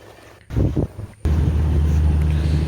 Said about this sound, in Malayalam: ബോട്ട് കരയിലേക്ക് അടുത്തുകൊണ്ടിരിക്കുകയാണ്